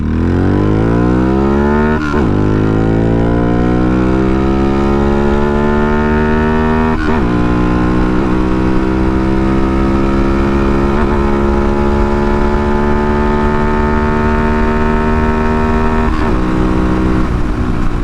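A stock Honda 125 motorcycle fitted with a cam revs through a full-throttle pull, its engine note climbing loudly through several gears with brief dips at each shift, close and dominant with heavy wind.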